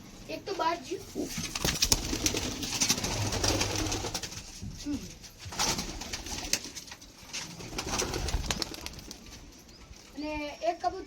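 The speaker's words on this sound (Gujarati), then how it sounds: "બે કબૂતર અહીં છે," Pigeons kept at home, one sitting on eggs, coo in low rolling phrases near the mic, with bursts of wing flapping and rustle, and some voices talking in between.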